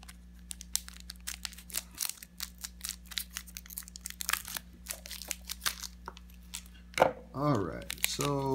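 Crinkly tearing and crunching of foil wrappers as Japanese Pokemon booster packs are ripped open, a steady run of close crackles over a low hum, ending with someone speaking.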